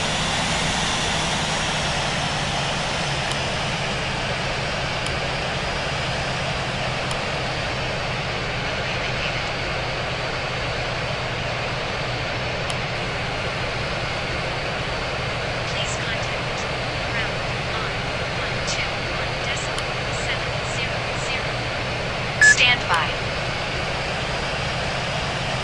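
An Airbus A350-1000 jet at London Heathrow holding for departure on runway 27 right during a test flight, its engines giving a steady, unbroken broadband roar, with a few faint clicks near the end.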